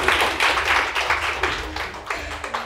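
An audience at a makeup training academy claps together in a brief, dense burst of applause that fades slowly.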